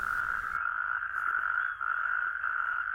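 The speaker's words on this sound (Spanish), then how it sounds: "los sapos corredores salen a miles buscando el agua" Natterjack toads croak near water in a wetland, a loud continuous rolling trill that runs almost unbroken with only a brief dip, close and dominant over faint background.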